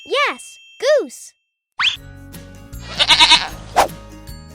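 A goat bleats twice in quick succession, loud and close, with wavering nasal cries, followed by a mix of farm sounds and a short plopping noise.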